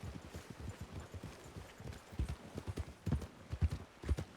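A horse canters in an open-world western game, hooves clip-clopping in a fast rhythmic beat that grows louder toward the end, with a faint voice underneath.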